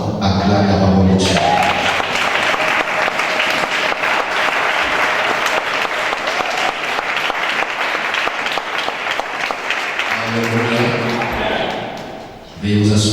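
Church congregation claps in loud, steady applause for about ten seconds, dense and continuous, with a voice speaking briefly before and after it.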